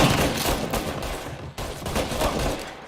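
Rapid gunfire in the video game Mafia: Definitive Edition, dense overlapping shots in a continuous barrage with a brief dip midway, loud and close, with no talk.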